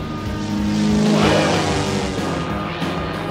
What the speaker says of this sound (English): Follow that plane!